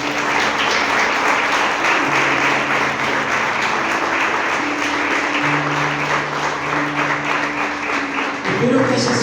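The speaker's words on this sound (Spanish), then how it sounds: "¿Cuánto le pueden aplaudir al Señor?" A church congregation claps loudly and continuously throughout, a thick, even wash of applause with sustained keyboard-like tones held underneath.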